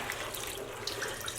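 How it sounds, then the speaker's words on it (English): Warm water runs from a tap into a sink to rinse freshly dyed yarn, a steady close splashing flow with a few brief sharper splashes near the end. "I'm going to continue to add warm water to the yarn"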